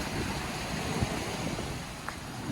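High-tide ocean waves on a beach wash in as a constant broad roar of surf, steady and close, with wind buffeting the microphone.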